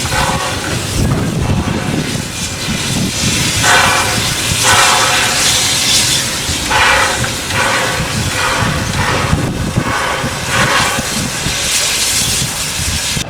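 Steam Ranger Cockle Train steam locomotive at Goolwa station, hissing and rumbling loudly and continuously, with a broad roar that swells and eases in waves over a heavy low drone, close by and without talk.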